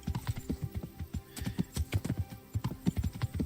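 Horse hooves in the Kingdom Come: Deliverance video game, a quick, steady clip-clop of a horse moving at pace, crisp and fairly close but quiet, with no talk over it.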